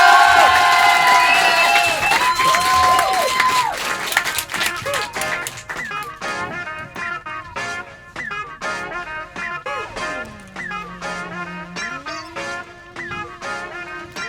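A radio studio audience claps and cheers for a guest at his first live show, loud and lively at first with shouts on top, then thinning into steady clapping while music and voices carry on underneath.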